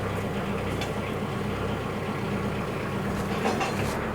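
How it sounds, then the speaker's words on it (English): A heavy-duty Ansung tractor backhoe rumbles steadily as its hydraulics raise the stabilizer bars, giving a continuous loud engine and hydraulic drone with no clear change in level and no voices. "So now bring up your stabilizer bars."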